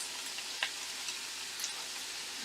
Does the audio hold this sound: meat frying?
yes